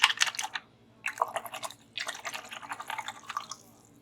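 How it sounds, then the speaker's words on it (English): A paintbrush is swished and tapped in a water cup while painting a ceramic oval bird tray, giving three bursts of wet dripping and sloshing, close and fairly loud, with brief pauses between. "let me rinse my brush"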